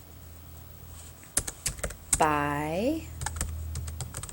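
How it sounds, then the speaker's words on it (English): Scattered clicks of typing on a computer keyboard, with a voice speaking briefly partway through. "So I'm going to just type in"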